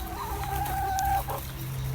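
A hen clucking and vocalizing in a garden, a drawn-out tonal call followed by shorter clucks, close and clear over a steady low background hum.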